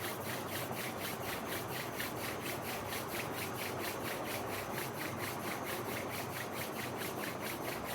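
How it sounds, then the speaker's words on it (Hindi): Both palms rubbed briskly together during a meditation session, a steady rhythmic swishing friction repeating evenly for about eight seconds, close and fairly loud with no speech. "दोनों हथेलियों को आपस में रगड़ेंगे"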